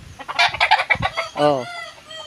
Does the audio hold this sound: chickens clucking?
yes